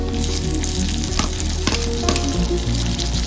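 Browned onions frying in a pan for a quick pasta sauce as tomatoes go in, a steady close sizzle with a few soft stirring knocks and no talking.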